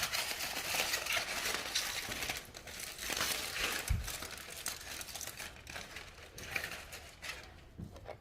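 A knife cuts through a cooked rack of lamb with continuous crinkling, tearing sounds and a single dull thud partway through.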